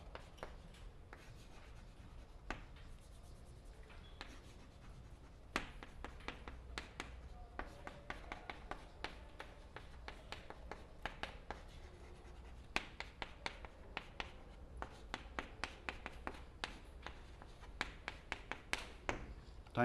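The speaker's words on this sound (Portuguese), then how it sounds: "Vou escrever aqui em cima" Chalk or marker scratching and tapping on a classroom board during a calculus lecture, a steady run of short strokes and taps at moderate distance, with no talking.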